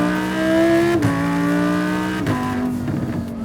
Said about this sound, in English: today I'm driving a Lamborghini for the very first time